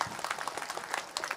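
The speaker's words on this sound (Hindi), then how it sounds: "जो लोग सुनना चाहते हैं वो तालियां बजाकर हुक्म दे सकते हैं" A crowd at a Hindi-Urdu poetry mushaira claps in a brief, fairly faint burst of rapid, overlapping handclaps.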